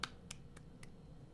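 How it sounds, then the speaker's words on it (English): A person claps for themselves while working through a puzzle game, giving four sharp, isolated claps spaced roughly a quarter second apart, faint and alone with no talk. "Always remember to clap for yourself every once in a while."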